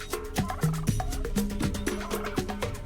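A brush turkey gives repeated low, clipped calls in a quick, uneven rhythm, fairly close and clear, with no talking.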